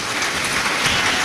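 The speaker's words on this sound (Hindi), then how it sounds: "एक बार जोरदार ताली बजाकर" An audience at a Shiv Mahapuran katha applauds, a short burst of dense, steady clapping heard alone.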